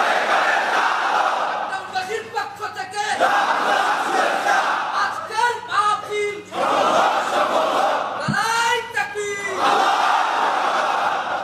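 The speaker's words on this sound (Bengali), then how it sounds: "তাকবীর পড়ুন, আল্লাহু আকবার" A large crowd chants the takbir, Allahu Akbar, at a religious lecture by Mizanur Rahman Azhari, in loud, rhythmic, repeated shouts that rise and fall in waves.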